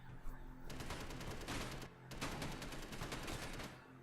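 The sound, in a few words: ship gun firing in Space Engineers video game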